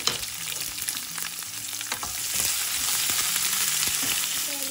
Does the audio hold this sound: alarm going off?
no